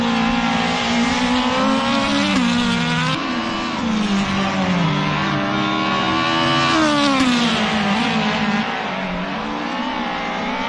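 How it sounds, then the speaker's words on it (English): A race car screams down the front straight at Dover Raceway in Jamaica, its engine holding a loud, steady high-pitched howl with pitch rising and dipping through gear changes for the whole stretch, with no talking. "You can hear that case screaming down the front straightaway."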